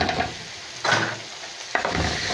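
Onion and garlic stirred with chili harissa in a pan, giving a soft steady sizzle broken by two distinct scraping stirs, close and moderately loud.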